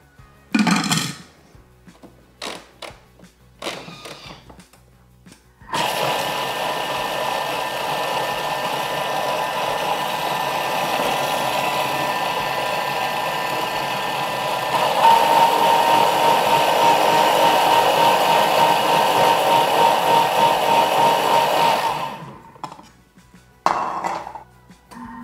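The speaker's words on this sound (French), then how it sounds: "Allez, je vais de nouveau mixer." An electric blender whirs steadily for about sixteen seconds, mixing batter with olive oil for small savory loaf cakes, then rises to a louder, harsher pitch partway through before cutting off, with brief kitchen clatter before and after.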